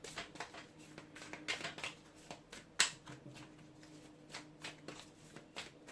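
Oracle cards are shuffled by hand, giving soft, fast riffling flutters and light taps close up at a low volume, with one brief sharper snap partway through.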